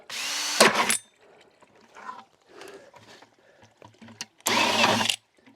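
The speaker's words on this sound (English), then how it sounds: "we're going to drill a hole about 3/4 of the way up" A power drill whirs in two loud bursts, about a second each, drilling a hole in a ram pump pipe, with quieter handling noises and clatter in between.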